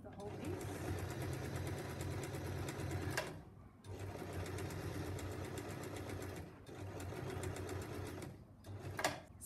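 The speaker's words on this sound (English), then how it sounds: "So you sew all the way along the length of the whole piece." Sewing machine running in steady bursts as it stitches along a long fabric strip for scrunchies, a close, continuous whirring rattle broken by brief pauses near three and eight seconds.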